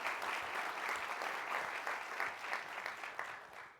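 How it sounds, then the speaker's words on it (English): A conference audience at the Kennedy School claps for the organizers, a sustained round of applause that is fairly soft and distant and tapers slightly toward the end. "We should give them a round of applause for that."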